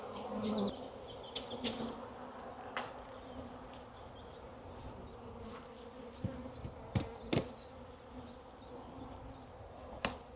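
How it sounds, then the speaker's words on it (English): Continuous buzzing of many Buckfast honey bees close by during hive work, with occasional sharper clicks and knocks breaking through the drone. "These are nice big buckfast looking bees."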